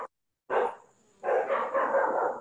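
A dog barks in two bursts, a short bark followed by a longer run of rough, repeated barking, fairly close, on a street in Haiti.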